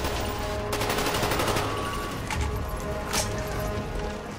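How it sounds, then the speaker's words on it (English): Rapid automatic gunfire in Call of Duty: Black Ops, a loud fusillade of overlapping shots with sharper individual cracks standing out near the middle and end. "I was like, where am I getting shot from?"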